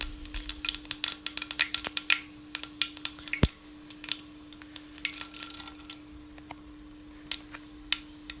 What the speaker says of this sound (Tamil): ஆயில் கொஞ்சம் ஹீட் ஆனதும் கடுகு போட்டுக்கலாம்